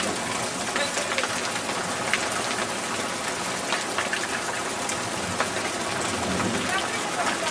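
Hail and rain fall on the ground outdoors in a constant, dense patter with scattered sharper pellet hits, loud and close throughout.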